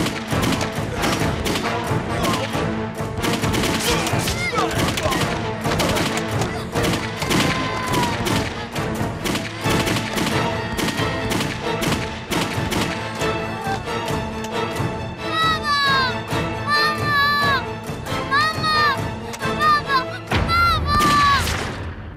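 Sustained movie gunfire: dense, rapid volleys of gunshots and booms pound almost without pause for over twenty seconds, loud and close, with a short dip near the end before a final burst.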